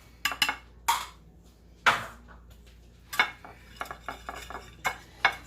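A utensil stirs chopped garlic into a pan of seasoned Salisbury steak mixture, giving a series of sharp metallic scrapes and clinks at an uneven rhythm, close and clear with no talking.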